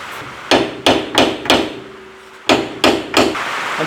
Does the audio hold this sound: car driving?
no